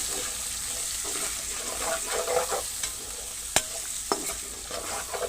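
Chopped onions frying golden in a pan while being stirred, a continuous close sizzle with occasional sharp spatula clicks against the metal.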